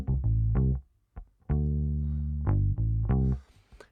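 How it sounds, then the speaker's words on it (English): A solo Precision bass with flatwound strings plays a deep, round groove of short plucked notes with some sustained tones and brief gaps between phrases. "Ain't nothing like a P bass with some flat wounds on it."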